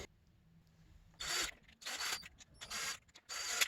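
Ratchet or wrench work bolting the cam back into a Honda CRF250R engine, four distinct bursts of close, rasping mechanical clicking with short pauses between them.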